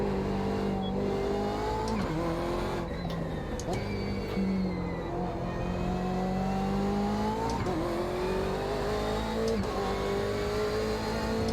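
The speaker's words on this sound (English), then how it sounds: "There's a faster car approaching." Race cars at Silverstone in a racing video game, engines revving and shifting with a faster car closing in; a continuous, loud engine drone rises and drops in pitch through gear changes, with some talk.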